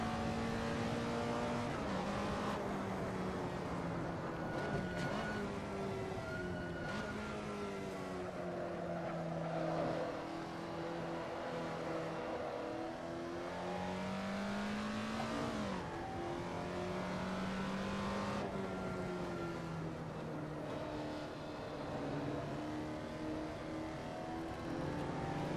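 A race car laps Laguna Seca in the Assetto Corsa game, its engine note climbing and dropping through repeated gear shifts, with steady revving and brief lifts under braking, loud and continuous with no voices.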